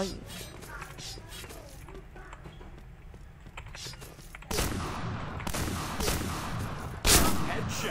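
Gunfire in a shooting video game fired with a mouse macro, a run of sharp shots that jumps louder midway with one strong blast near the end, over game noise with talk.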